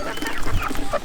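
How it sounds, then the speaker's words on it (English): A Livorno hen gives a short run of soft, close clucks, brief throaty notes in quick irregular succession. "Here is a Livorno hen."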